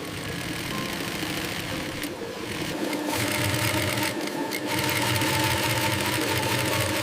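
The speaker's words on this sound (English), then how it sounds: "Assembly begins with cup stitching." A sewing machine stitches bra cups made from pineapple leaf fiber, a fast, steady mechanical whirring and clatter that runs loud and close for several seconds, with a few brief pauses.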